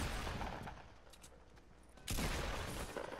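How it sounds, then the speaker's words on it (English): Rapid gunfire in a Fortnite match as a player shoots at a wall, dense bursts of shots that drop back briefly and then return louder. "She's shooting the wall."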